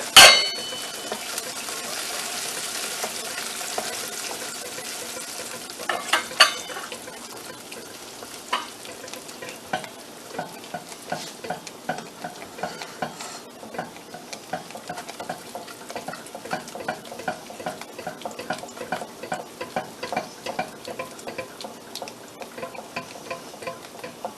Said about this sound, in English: So I'm going to stir the pralines until they start to thicken up some.